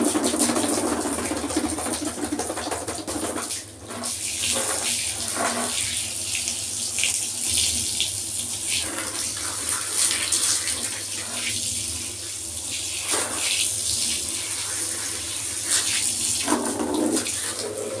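Water runs steadily from a tap into a sink during washing, a loud, continuous gushing rush that holds for the full length with only slight shifts in flow and no voices.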